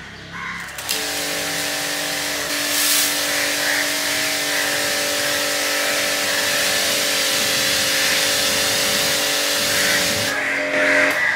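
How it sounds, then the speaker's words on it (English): A pressure washer sprays pressurized water onto a car to loosen dust during a Sunday detail, a steady loud hiss with a motor hum running unbroken for about ten seconds, no talking. "we'll first loosen all the dust with the help of pressurized water"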